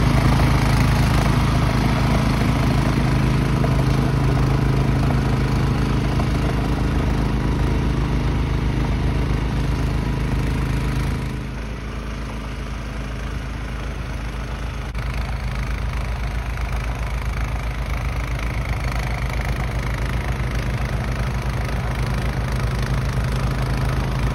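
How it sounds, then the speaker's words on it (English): Gasoline snow blower steadily churning through six inches of wet snow, a continuous loud engine drone with a slight drop in load partway through, close and alone with no talking. "I'm really pleased with how the blower's performing in this wet snow."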